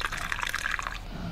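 Pesticide poured in The Cat Lady game, a short, bright liquid splash and trickle that fades after about a second.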